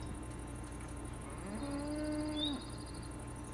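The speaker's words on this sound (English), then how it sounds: "Oh, that's definitely the cow." A single cow moos in Minecraft, one drawn-out low call lasting about a second midway through, heard over a quiet bed of ambient game noise and faint background tones, with nobody talking.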